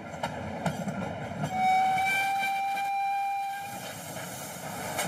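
The Train des Pignes, a historic steam train, rolls along its rails with rhythmic wheel clatter, and a sustained whistle blows in the middle before the rumble continues.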